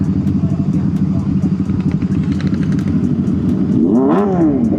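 Kawasaki ZX sport motorcycle engine running up close at a Sunday group ride meet, a busy mid-pitched rumble with a sharp rising and falling rev near the end, while people talk over it.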